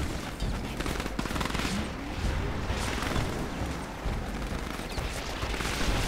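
Gunfire and explosions in the real-time strategy game Command & Conquer 3, a dense, continuous barrage of rattling shots and crashes filling the whole stretch at steady, loud intensity.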